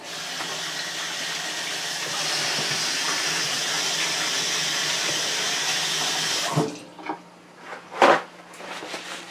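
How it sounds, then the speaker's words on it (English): Running tap water splashes steadily into a sink as hands are washed, a continuous close hiss that cuts off abruptly, followed by a few brief drips and small handling sounds. "let me wash my hands"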